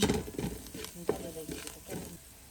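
Dalcha masala and coriander powder being sautéed in a pot for village-style mutton dalcha: close, steady sizzling with repeated scraping stirs of a spoon against the pot, no talking.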